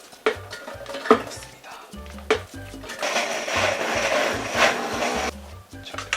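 A blender grinds onion for chicken curry (chicken tikka masala), a steady whirring roar that runs for a couple of seconds between sharper knocks and clatters of kitchen handling.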